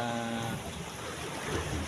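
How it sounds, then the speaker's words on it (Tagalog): Sea waves wash and splash against rocks at a floating sea cave rock formation, a loud continuous surge of water and wind with a faint voice underneath. "Ayan, umaalon-alon. Umampas-ampas ang alon."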